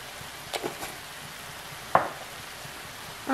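Sliced mushrooms fry softly in a pan with pepper and salt, a low steady sizzle broken by a few light scraping stirs near the start, one sharper clack at two seconds and another at the end.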